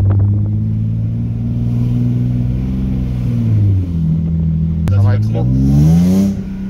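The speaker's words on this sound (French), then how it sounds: "Dès que tu lâches l'embrayage, elle continue à accélérer comme ça, tu vois." A BMW 328 engine revs and keeps accelerating after the clutch is released, a deep close rumble whose pitch sinks and climbs again, with someone briefly speaking French over it.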